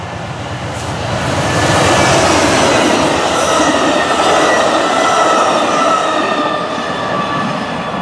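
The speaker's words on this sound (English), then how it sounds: "our first train of the day would be the daily southbound Texas Eagle" Amtrak's southbound Texas Eagle passenger train passes close by on Union Pacific's Austin Subdivision, with a loud, steady rumble of wheels on rail and a faint metallic squeal that swells and holds for several seconds.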